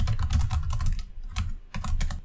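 Rapid clacking of computer keyboard keys while code is typed into a Solidity contract editor, a close, steady burst of keystrokes with a short pause partway through, no voices.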